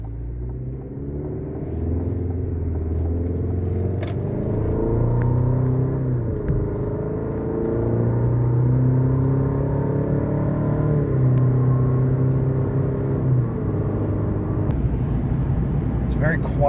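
Cabin interior of a 2024 GMC Canyon truck on the road, a steady low engine rumble and road drone with gentle rises and falls in pitch as it accelerates and shifts, continuous and close throughout.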